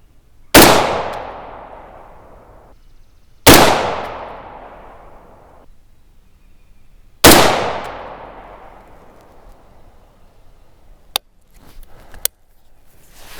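Three loud, sharp 6.5 Grendel rifle shots fired through a muzzle brake, evenly spaced a few seconds apart, each cracking then ringing away outdoors, followed by two faint brief clicks.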